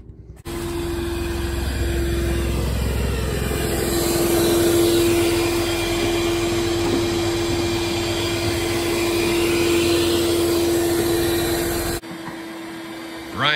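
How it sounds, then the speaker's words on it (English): A shop vacuum cleaner roars steadily at close range for about twelve seconds, its steady whine shifting slightly as it sucks dirt and debris out of a vintage NASCAR race car, then cuts off abruptly. "he drug out the vacuum cleaner and he's in there trying to get all the crud out of it"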